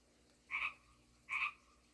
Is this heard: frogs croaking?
yes